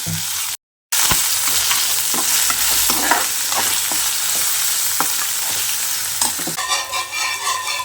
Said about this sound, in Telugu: కొద్దిగా అల్లం వెల్లుల్లి పేస్ట్ అల్లం వెల్లుల్లి పేస్ట్ వేసుకొని కలుపుకుందాం